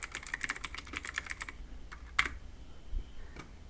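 Computer keyboard being typed on in quick bursts of clicky keystrokes for about a second and a half, then a few scattered separate key taps after a pause, close up and alone.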